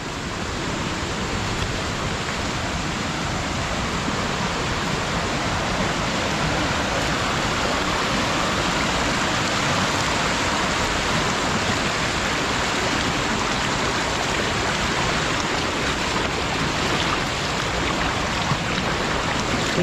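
A strong, steady rush of water gushing from a hose fills the whole clip, loud and close, with no breaks or voices.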